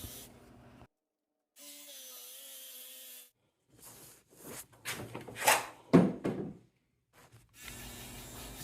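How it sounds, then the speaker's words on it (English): A Drillmate guide and drill boring a 1-inch hole through about 7 inches of thick wood for a leg vise screw, in short bursts of motor whine and rough chip-cutting separated by pauses, loud and close. "I'm then using this Drillmate to basically drill the 1-inch hole that the vise screw needs to go in"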